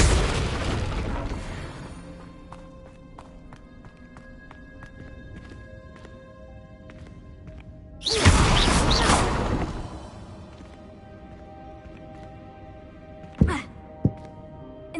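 Incendio fire spell cast in Hogwarts Legacy, a sudden loud whooshing burst of flame that roars for about two seconds mid-clip, preceded by an opening blast and followed by a few sharp crackles, over quiet ambient music.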